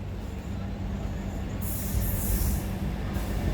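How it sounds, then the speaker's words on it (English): A freight train hauled by a Class 66 locomotive rumbles past nearby from a station platform, with a steady low roar and a high wheel squeal rising partway through. "there's a freight train coming out of platform 4"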